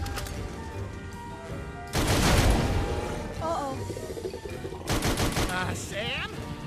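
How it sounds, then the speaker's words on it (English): Gunfire bursts from the Sam and Max VR video game, loud rapid volleys in two stretches over continuous game background sound and voices. "I'm shooting!"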